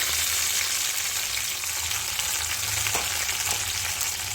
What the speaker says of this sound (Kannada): ನಾನು ಒಗ್ಗರಣೆನ ಸಾರಿಗೆ ಆ್ಯಡ್ ಮಾಡ್ತಾಯಿದ್ದೀನಿ